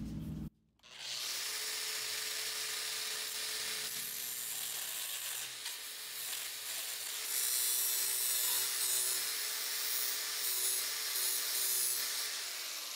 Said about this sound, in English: before we fold them, we need to cut out the corners. Doing that with the mini grinder.